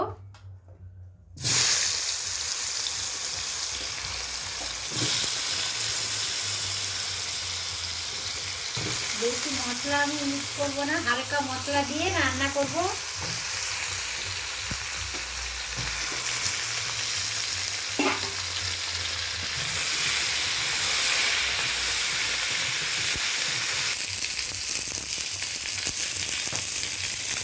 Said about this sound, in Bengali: কাঁচকলাটা হালকা করে একটু কষিয়ে নেব।